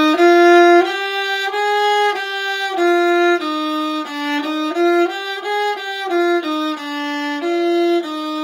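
Viola played with the bow through a finger pattern, a steady run of separate sustained notes stepping up and down in even rhythm, close, clear and alone without talk.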